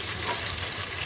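Dry red chillies and crushed red chillies frying in hot oil in a pan for restaurant-style Schezwan chicken, giving a steady, close, broadband sizzle throughout with no talk.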